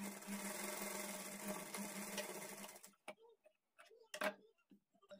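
A sewing machine stitches a blouse seam in a continuous fast whirring run for about three seconds, then stops, leaving a few faint clicks and brief handling sounds.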